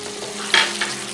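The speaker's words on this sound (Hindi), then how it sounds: "अब हम इसे 15 मिनट तक अच्छी तरीके से भून लेंगे।" Mutton frying in a kadai gives a steady, close sizzle with brief louder bursts of stirring and hissing partway through, and no voices.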